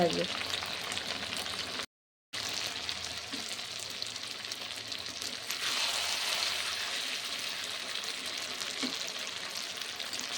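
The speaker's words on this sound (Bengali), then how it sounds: "এই দেখো চিকেন চিকেন কষা হচ্ছে" Chicken kosha fries in a pan with a steady, bright sizzle that runs almost unbroken, broken by a brief gap of silence and a few soft stirring knocks.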